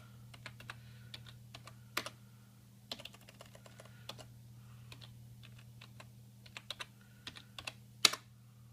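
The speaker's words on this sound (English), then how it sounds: "I'm just going to type the password in" A password goes in on a computer keyboard: close, crisp key taps in uneven bursts and short runs with small pauses, one sharper clack near the end, over a low steady electrical hum, no talking.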